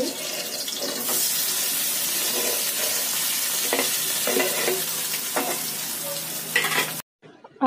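Boiled potatoes fry in ghee with cumin and green chilli, a continuous close sizzle broken by repeated spoon-stirring scrapes against the pan, ending abruptly.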